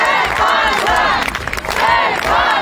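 A crowd cheers and shouts in welcome for an archbishop outside a diocesan headquarters, loud overlapping voices rising and falling in waves with some clapping mixed in.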